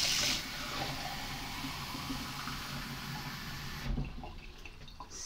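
Water pours from a pint glass into a pan for ginger citrus marmalade, a soft steady splashing stream that cuts off sharply near the end.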